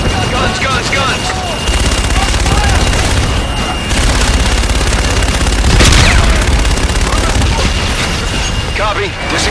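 An aircraft gun run in Call of Duty: Infinite Warfare: sustained heavy gunfire and booming impacts roar continuously, with a sharp blast near the middle, while radio-style voices call out over the barrage.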